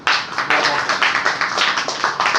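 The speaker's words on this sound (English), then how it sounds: "Clap to everyone." An audience at a debate competition claps in a quick, even rhythm of sharp hand claps, close and fairly loud, lasting a couple of seconds with no talk.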